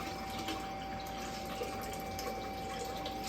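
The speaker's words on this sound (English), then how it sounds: "if I can pour a glaze on and it works" Glaze being poured over a pottery piece, a quiet continuous trickle of liquid with a faint steady hum underneath and no talk.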